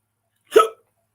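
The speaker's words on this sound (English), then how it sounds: "I'm either yawning or I got the hiccups." A single short, sharp hiccup from a person sounds up close and alone in otherwise complete silence.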